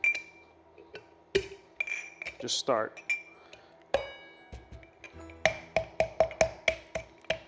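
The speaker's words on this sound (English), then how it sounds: "I'll take this, got my mixing glass, and I'll use my muddler." Candy cane pieces crushed with a muddler in a mixing glass give sharp glassy clinks and crunches, scattered at first, then a quick run of evenly spaced taps near the end, close and fairly quiet, with brief speech.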